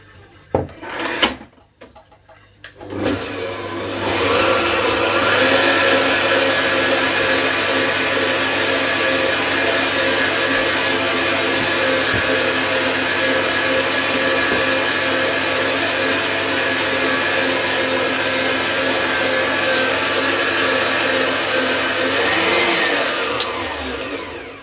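An electric mixer beats coffee cake batter in a bowl. After a brief clatter, a loud, steady motor whir runs close by for about twenty seconds, then stops.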